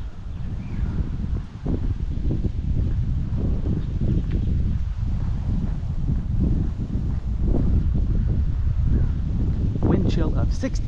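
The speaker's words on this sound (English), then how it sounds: "It's kind of windy." Steady outdoor wind on a warm day blows with constant rumbling gusts across the microphone for the whole stretch. Rustling and brief higher-pitched noises come through near the end.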